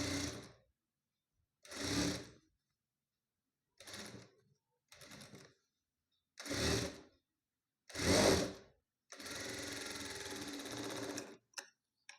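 A sewing machine stitches a blouse piece in several short bursts separated by silences, ending in one longer steady run of close, rattling stitching.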